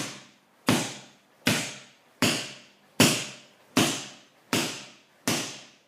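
Strikes landing on a single hand-held pad during street-fighting practice, seven sharp, evenly spaced impacts about three-quarters of a second apart, each with a quick decaying smack, close and clear with no talking.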